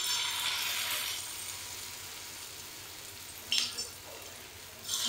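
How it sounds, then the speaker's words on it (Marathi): Bhaji fritters frying in hot oil over a medium gas flame, a soft, steady hiss that fades after the first second, with brief bubbling crackles near the end. "आता आपण भजी सोडून घेऊया।"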